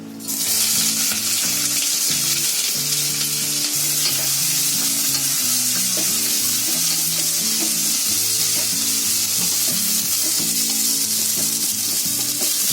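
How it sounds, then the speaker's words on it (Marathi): Onion frying in hot oil in a pan for a Maharashtrian chicken dish, a loud, steady sizzle and crackle close by with stirring underneath, continuous throughout with no talking. "आता आपण त्याच्यामध्ये तेलामध्ये कांदा टाकायचा आहे पहिला."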